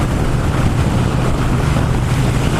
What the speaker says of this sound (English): Now you can probably hear I'm getting quite a lot of wind noise.